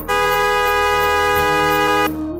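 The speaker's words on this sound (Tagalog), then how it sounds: "Bumusina ako ng paulit-ulit." A car horn blares in one long, loud, unbroken sustained tone lasting about two seconds, close and dominant, then cuts off abruptly.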